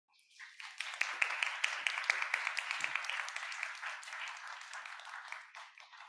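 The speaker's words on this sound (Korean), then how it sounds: "환영의 의미로 박수하면서 모시도록 하겠습니다." Congregation at a young adults' church worship service claps to welcome a guest speaker, applause swelling quickly from silence, holding a lively patter for several seconds, then thinning out into scattered claps.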